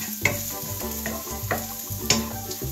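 Onions fry in a pan with a close, continuous sizzle, punctuated by several distinct scraping and stirring knocks at a loose, uneven rhythm.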